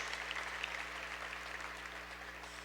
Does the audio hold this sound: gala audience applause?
yes